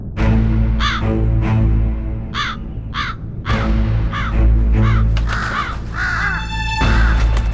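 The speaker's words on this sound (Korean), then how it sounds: "까마귀는 거대한 포식자의 주변을 맴돌고 있다가 그 움직임을 먼저 알아채죠" Crows cawing repeatedly in the forest habitat of a large predator, likely a tiger, once prowling around slash-and-burn farmland in Korea; harsh calls come in spaced bursts, some overlapping, with other birds faintly chattering behind.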